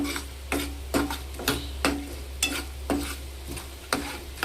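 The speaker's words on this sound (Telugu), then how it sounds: "సాల్ట్ వేసుకొని ఒకసారి కలుపుకోవాలి మంచిగా" Semiya stirred with salt in a pan, with rhythmic scraping strokes about twice a second over a low, steady hum and a gentle sizzle.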